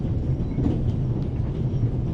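Steady low rumble of a moving train carriage in The Raven video game, a continuous mid-loudness drone with faint rhythmic rattling throughout.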